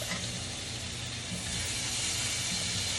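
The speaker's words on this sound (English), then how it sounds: "now I am adding the shrimp" Raw shrimp hitting hot Cajun pasta sauce, a steady loud sizzle and hiss of frying that holds evenly for a few seconds.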